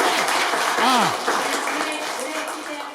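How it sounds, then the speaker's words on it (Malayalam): An audience at a school anniversary and learning festival breaks into sustained clapping to welcome the chief guest onto the stage. A brief rising tone, like a voice or whistle, rises above the applause. "കൈയടിക്ക് സ്വാഗതം ചെയ്യും"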